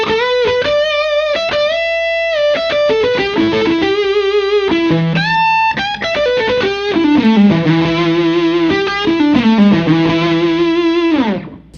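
Electric guitar through a Textosterone preamp pedal on a pedalboard, set for a creamy, Marshall-like overdriven tone, plays sustained chords and single-note lines, loud and close, with no talking.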